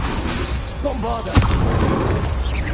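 A Bombarda blasting spell detonates in the wizarding game Hogwarts Legacy, one sharp booming burst that stands out midway over a busy, noisy game-combat bed with some voice-like sounds.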